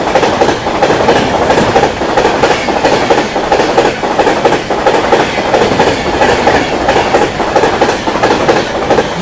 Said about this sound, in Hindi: 12310 new Delhi Rajendra Nagar terminal Patna Tejas Rajdhani express.